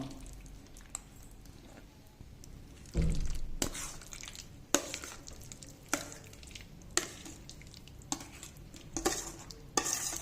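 Amla pickle mixed into cooled tempered oil in a pot, with repeated squelchy scrapes and clinks of a spoon against metal, in irregular strokes.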